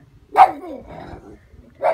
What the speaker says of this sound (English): Excuse my dog barking, guys.